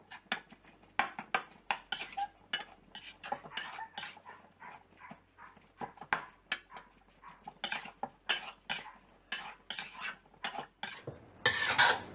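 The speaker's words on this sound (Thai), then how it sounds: "เดี๋ยวเราจะรวนหมูก่อนค่ะ สูตรนี้จะไม่ใช้น้ำมันเลยนะคะ" Minced pork stir-fried in a pan with no oil, cooking in its own fat: a close run of sharp spatula scrapes and clacks against the pan, irregular and busy, with no talking.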